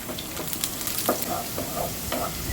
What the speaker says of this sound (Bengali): এখন এই রসুনগুলোকে ভেজে নিব